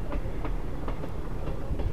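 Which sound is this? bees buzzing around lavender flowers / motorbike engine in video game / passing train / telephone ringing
passing train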